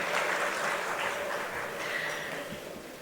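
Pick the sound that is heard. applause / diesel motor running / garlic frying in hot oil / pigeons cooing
applause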